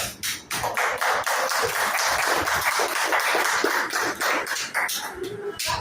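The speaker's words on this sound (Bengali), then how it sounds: "আমরা পুরনো যারা আছি তারা করতালির মাধ্যমে" An audience at a company marketing meeting applauds, with dense, steady clapping from many people that fills the whole stretch before tapering off near the end.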